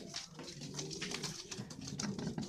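Low, continuous cooing from a loft of racing homer pigeons in Kolkata, several birds overlapping in a soft rolling murmur with faint rustling and no voices.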